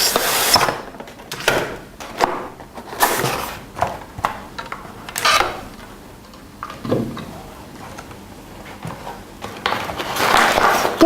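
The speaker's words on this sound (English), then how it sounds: "All you need to do is open the box and take out the device." A router device being unboxed, with scattered rubbing, scraping and tapping of cardboard and packaging as it comes out of the box, in short bursts with quiet gaps and no talk.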